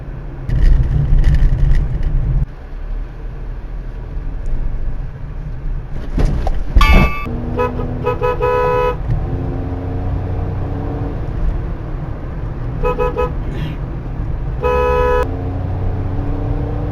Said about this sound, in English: Hope you are able to make it from the noise of my car.